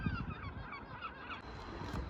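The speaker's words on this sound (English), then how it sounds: "a flock of seagulls" Loud, honking bird calls, a flock of seagulls at Grangetown railway station, ring out repeatedly over a steady background of station noise.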